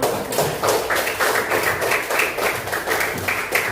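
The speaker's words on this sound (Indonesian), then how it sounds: "Oke, tepuk tangan dulu untuk kita semua." Elementary school class clapping hands together in a classroom, a steady run of fairly even group claps close by, with no talking over it.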